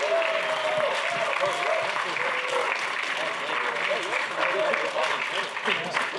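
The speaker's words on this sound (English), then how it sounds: "let's give them a round of applause real quickly" A conference audience at a creator event applauds warmly for about six seconds, many hands clapping in a dense, sustained burst, with faint voices mixed in.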